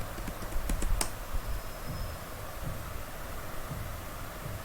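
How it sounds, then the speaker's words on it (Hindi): Someone types a route print command on a computer keyboard, a quick cluster of crisp key clicks near the start followed by quiet background hiss. "सॉरी मैंने राउट प्रिंट टाइप कर दिया"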